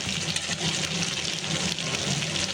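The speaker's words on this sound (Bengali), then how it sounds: "জলটা দিয়ে দেবো, গরম করে রেখেছিলাম জলটা দিয়ে দেবো।" Pre-heated water is poured into a cooking pot for a katla fish and yam curry, making a continuous, loud rushing splash that stays steady and close throughout.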